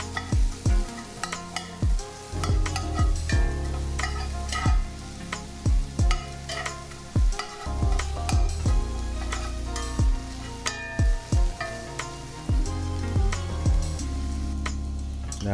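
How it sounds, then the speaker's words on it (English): Onions fry and sizzle steadily in an oiled pan while a utensil stirs them, with repeated close scraping and knocking strokes against the pan. "give that a mix, breaking up our onions as we go"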